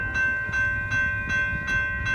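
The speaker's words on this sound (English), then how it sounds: "wow, it's a loud-ass train." A loud freight train rolls past nearby, its heavy low rumble steady throughout, with regular wheel clacks and a sustained tonal whine over the top.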